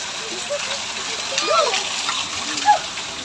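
Water splashes and sloshes in short bursts close by, with a couple of sharper splashes, while people talk over it.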